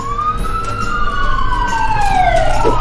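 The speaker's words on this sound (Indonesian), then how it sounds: "suara sirine mobil ambulan yang sering melintas di sepanjang jalan" Ambulance siren wailing on a street, a loud sweeping tone that rises and falls steadily over a constant traffic rumble.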